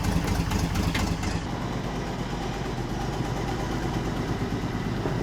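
A Citroën T45 truck engine runs steadily at idle, a loud, even low rumble that goes on without a break, with a brief rougher burst near the start.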